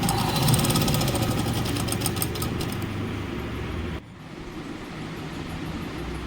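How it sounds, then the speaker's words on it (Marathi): A sewing machine stitches around the neckline of a katori blouse, a dense, steady mechanical chatter that runs close and continuous before easing into a quieter, lighter hum partway through. "गळ्याचा आकार पूर्ण देऊन झालेला आहे आता पूर्ण शिलाई मारून घेते"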